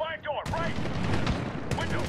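Gunfire rings out during a firefight in the Medal of Honor PC game, a dense, steady burst of shots and blasts with game voices and effects layered under it.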